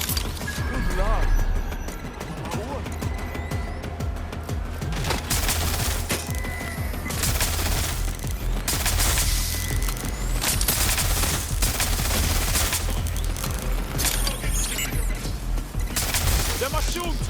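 Dense, continuous gunfire in Watch Dogs: Legion, overlapping volleys and crashes throughout, with voices talking over the shooting.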